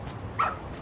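A dog in the video game Lost Judgment gives a single short, high bark or yip amid quiet game ambience.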